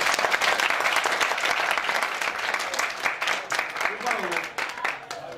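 Applause from a wedding audience, dense continuous clapping that holds steady and loud before thinning slightly toward the end, with voices mixed in.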